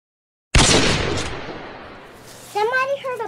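A single loud gunshot fired at the iron lock of a safe in a Western setting, a sharp close bang that rings out and decays, followed by a voice speaking.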